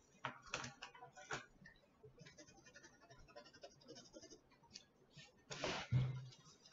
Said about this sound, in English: And now I'm going to cut my second batch of pages.